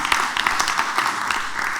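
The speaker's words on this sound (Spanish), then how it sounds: "Por favor, un aplauso para el pingüino valiente." A small crowd at a literary talk claps together in a steady patter of applause, dense and continuous throughout.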